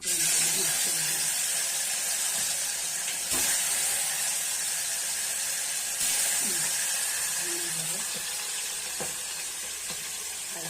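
Oil left from frying fish sizzles in a pan with a loud, continuous hiss and crackle and occasional sharper spits, and a voice is faintly present beneath it.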